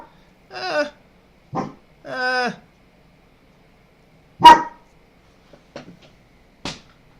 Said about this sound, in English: I have a crazy dog